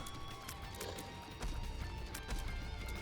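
A horse gallops in The Binding of Isaac: Repentance, its hoofbeats a steady clip-clop that grows louder midway, mixed with other busy game sound effects.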